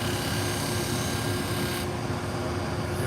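Pet grooming shears are sharpened on a 1,000 grit stone, making a steady, close rasping rub over a constant low mechanical drone.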